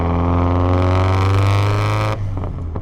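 A 400hp Subaru STi running E85 drones steadily at 2,500 RPM in 4th gear, its loud, even engine note holding for about two seconds before easing off as the throttle lifts.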